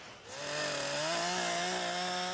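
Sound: chainsaw cutting resinous wood

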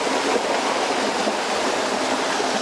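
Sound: small waterfall and stream flowing down a valley

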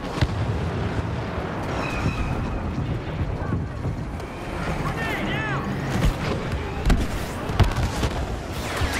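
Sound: grenade explosion in Star Wars Battlefront video game

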